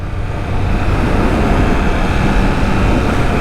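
A 2021 Triumph Trident 660 three-cylinder motorcycle ridden through Sydney streets, its engine a loud, steady low drone close to the microphone, building slightly after the first half second and mixed with rushing wind.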